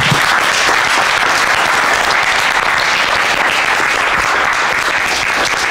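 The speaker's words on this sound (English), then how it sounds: "Another round of applause for our panelists." A community conversation audience applauds its panelists with dense, continuous clapping that stays loud and even throughout.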